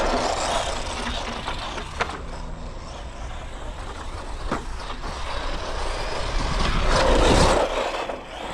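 A budget Arrma RC truck drives over rough ground and power slides, with a whining electric motor, gritty tire scrubbing and occasional knocks, fairly loud and close, with a louder surge near the end.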